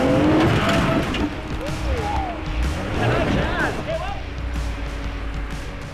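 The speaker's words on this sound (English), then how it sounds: "Everything is going fine, and Jazzy lays into the gas to make it to the top." An off-road vehicle's engine roars and strains loudly while climbing a rocky granite dune trail, the revving rising and falling close by, with voices talking over it.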